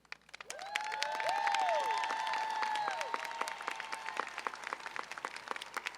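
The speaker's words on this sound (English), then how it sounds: "Let's give them an applause" A crowd at a community welcome home event bursts into applause, with loud, full clapping and a few cheers rising quickly, then thinning to scattered claps near the end.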